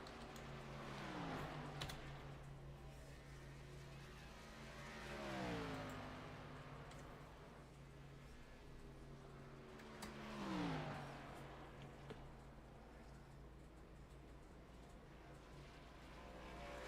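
Race cars in the racing game Asphalt Outlaws Racing at Pocono Raceway sweep past in three rising and falling engine passes, each swelling and fading as it goes by, fairly quiet over a steady background hum.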